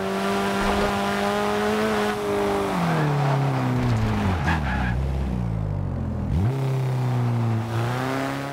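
Turbocharged Alfa Romeo 4C, a rear-wheel-drive car in the video game Forza Horizon 2, revving loudly and steadily with a pitch that drops and climbs through gear changes and a deep dip before rising again, with no talk.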